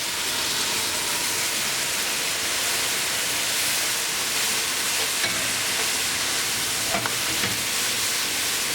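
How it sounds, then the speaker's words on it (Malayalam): Loud continuous sizzling and hissing as boiling water hits frying masala in a hot pan, a steady frying roar with occasional faint clinks, no voices. "ഇതിലേക്ക് കാൽ കപ്പ് തിളച്ച വെള്ളം ഒഴിച്ചു കൊടുക്കാം"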